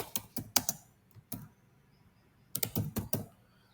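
Code being typed on a computer keyboard: two quick bursts of close, crisp key clicks separated by a short near-silent pause, with no talking.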